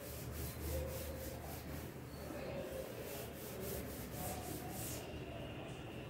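A teacher erasing a classroom board, heard as repeated rhythmic rubbing strokes, soft and steady, with no speech.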